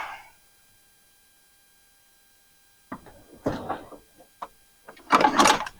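A breaker bar and 15 mm socket working the oil drain plug of a Ford Escape, with a few sharp metallic clicks and clunks after a quiet stretch, then a louder scraping rattle near the end, close up.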